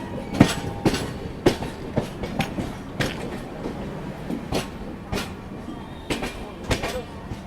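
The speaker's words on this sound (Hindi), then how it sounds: "तो ये क्रॉस हुई वैशाली सुपरफास्ट एक्सप्रेस" A Vaishali Superfast Express passenger train passes close by, its carriages producing irregular sharp clacks and thumps over a steady rumble, recorded from aboard another train.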